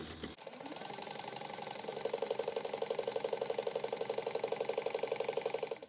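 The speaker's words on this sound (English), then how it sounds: "So we're going to top stitch at 1/8 of an inch." A sewing machine runs steadily, top stitching 1/8 inch from a fabric edge, its needle tapping in a fast even rhythm that picks up slightly after a short start, close and clear with no talk.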